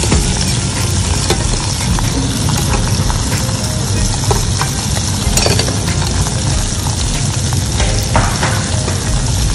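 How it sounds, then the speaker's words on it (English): Pan-seared fish fries skin-side down in a hot pan, giving a loud, dense, continuous sizzle and spitting that holds steady throughout, with faint occasional clatter. "when you put fish down, you always put one side down and then let it go"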